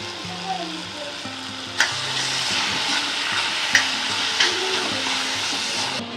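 Chopped tomatoes stirred into a spiced rice dish in a hot pan, sizzling steadily while a spoon scrapes and clatters against the pan. Several sharp knocks stand out, and no one speaks.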